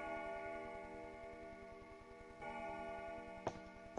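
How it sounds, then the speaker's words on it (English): A clock ticks in a steady, rapid rhythm, fairly faint beneath a constant humming background, with a couple of small knocks near the end. "That clock is well loud."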